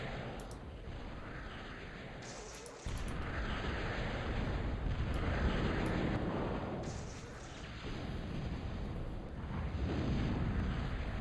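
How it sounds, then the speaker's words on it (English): Destroyers in the real-time strategy game Total Annihilation fire depth charges and cannons in a steady barrage of booming explosions and rumbling blasts, with sharp pops overlapping one another for several seconds at moderate loudness. "There's the destroyers with their depth charges and cannons."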